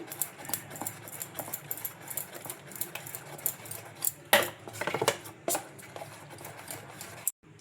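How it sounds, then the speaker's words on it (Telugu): Spices stirred into food in a pan make a steady run of scraping, clinking spoon-on-metal strokes, close and fairly quiet, with a busier flurry of scrapes midway before it cuts off. "ఇంక ఇవన్నీ వేసుకొని బాగా కలుపుకుందాం"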